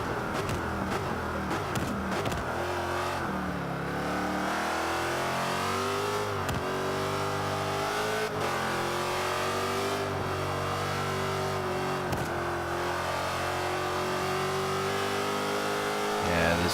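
A Jaguar XKR-S race car engine in the Forza 5 racing game, on the Catalunya circuit, roars steadily throughout, revving up and down through gear shifts, loud and close.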